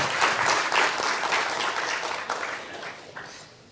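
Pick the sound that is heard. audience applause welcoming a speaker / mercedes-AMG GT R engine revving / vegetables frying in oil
audience applause welcoming a speaker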